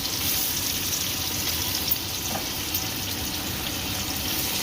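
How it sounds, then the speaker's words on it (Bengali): Paneer frying lightly in hot oil, giving a steady, even hiss and crackle that carries on throughout at close range, with no voices. "একদমই হালকা করে পনির ভেজে নেব।"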